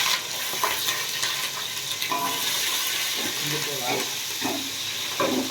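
Curry leaves crackle and pop as they fry in hot oil in a home kitchen, a busy sizzle with sharp spitting bursts, while a voice talks intermittently over it.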